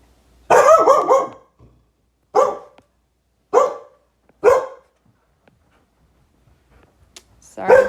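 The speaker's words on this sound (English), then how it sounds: "Sorry about my dog barking." A pet dog barks in a quiet room, one rapid cluster of yips and then three separate sharp barks spaced about a second apart, fairly close, with a voice starting at the very end.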